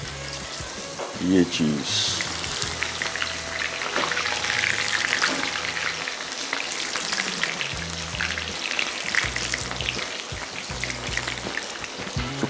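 Batter-dipped chicken pieces fry in hot oil in a kadhai, giving a close, bubbling sizzle that swells as pieces go in, while someone talks over it.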